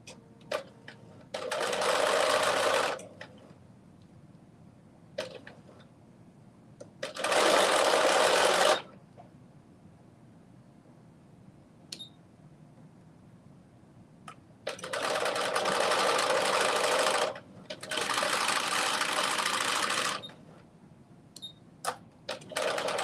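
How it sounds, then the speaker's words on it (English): A sewing machine whirs in several bursts of stitching, each lasting a few seconds, separated by quiet pauses with small clicks and handling noises. "I need to rethread my sewing machine"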